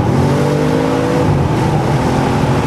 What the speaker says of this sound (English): make the car go very fast